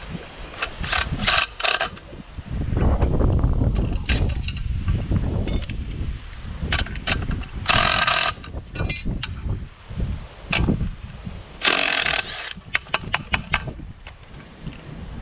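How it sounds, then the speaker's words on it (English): A Ryobi rattle gun tightens the blade nut on a Honda lawn mower, giving several short, sharp bursts of rapid hammering with handling clatter and rustling between them. "You can just rattle gun it nice and tight."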